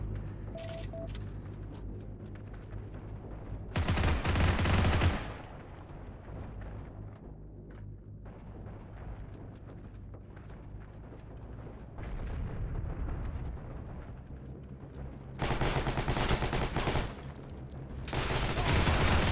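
Gunfire and sniper shots in the Heroes and Generals video game, with loud bursts of rifle and machine-gun fire and booming blasts over a constant rumbling battlefield din, no talk.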